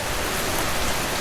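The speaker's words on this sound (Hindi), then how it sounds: "रास्ते में जोरों की बारिश शुरू हो जाती है।" Heavy rain pouring down on the way to a farm field, a dense, steady hiss with no pauses throughout the brief moment.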